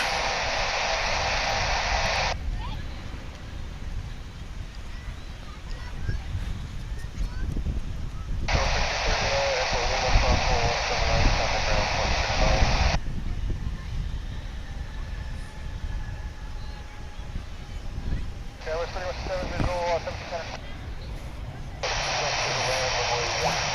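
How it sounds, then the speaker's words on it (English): An American Airlines Airbus A319 arriving at DFW airport at nightfall, a steady broad jet roar running throughout, with talk breaking in and out over it in repeated blocks. "Coming in from Eugene, Oregon is American Flight 2756 and A319 here on Runway DFW"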